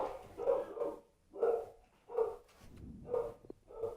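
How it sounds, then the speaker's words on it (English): A roommate's dog barks repeatedly in the background, five or six evenly spaced woofs about a second apart, moderately loud and indoors, with no talk. "if you hear that barking in the background"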